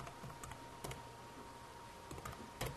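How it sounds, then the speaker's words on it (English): Numbers typed on a computer keyboard into a pie chart's data in Microsoft Word 2007: a few sparse, faint key clicks in small clusters over a quiet room hum, with no talking. "I will type in numbers."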